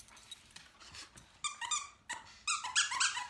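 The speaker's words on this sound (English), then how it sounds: "there's squeakers in the paws" A squeaky plush dog toy with squeakers in its paws and head gives several short, high squeaks in quick bursts. They grow louder toward the end over a quiet indoor background with no talking.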